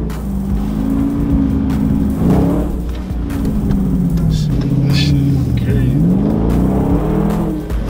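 A Dodge Scat Pack pulling away hard at a street meetup, its engine note rising and falling loudly over steady road and wind roar, heard from inside or close by.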